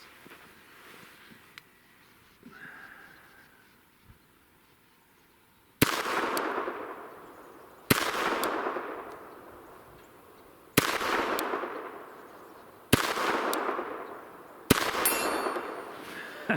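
A Bersa Thunder .380 pistol fires five shots at an 80-yard target on an outdoor range. Each sharp, loud crack is spaced a couple of seconds apart and followed by a rolling echo.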